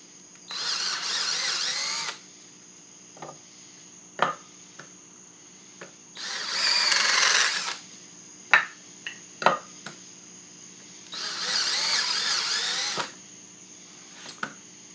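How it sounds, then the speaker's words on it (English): A power drill bores inch-deep holes for shorter screws in three separate loud, whining bursts of about two seconds each, with clicks and knocks of handling between them and no speech. "all I'm doing is drilling about an inch hole, or an inch deep hole in each of these in order to use shorter screws"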